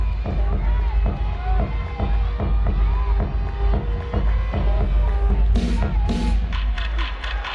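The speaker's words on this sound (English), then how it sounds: "The crowd goes wild when they see it." A large arena crowd at a collegiate women's gymnastics championship roars and cheers steadily during a floor routine, with loud sustained applause and shouting, music and an announcer's voice running underneath.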